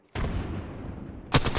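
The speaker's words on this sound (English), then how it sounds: "Look out, grenade!" Grenade explosion in a Call of Duty or Apex Legends match: a loud, close boom with a long rumbling tail, then a second sharp blast at the end, no talk over it.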